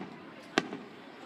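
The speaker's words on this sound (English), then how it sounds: "Fireworks, fireworks, fireworks, fireworks, fireworks, fireworks, fireworks, fireworks." Fireworks going off at night: a single sharp, loud bang rises briefly above a steady background murmur, followed by a fainter second pop.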